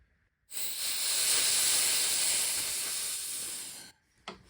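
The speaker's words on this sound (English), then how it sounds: "I'm going to let the air out of the pot and we'll see what's inside." Pressurized air hisses out of a resin pressure pot in one loud, steady burst lasting over three seconds, then cuts off, followed by a short faint click.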